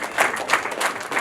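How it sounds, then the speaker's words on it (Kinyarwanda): Applause from a crowd of guests at a wedding ceremony, a short burst of steady clapping that swells in soft waves, moderately loud and not close. "Amashyi menshi cyane."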